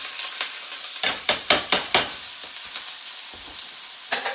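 Onions frying in oil in a pan give a steady hiss, with a brief cluster of sharper crackles and spatters partway through and a few scattered pops later.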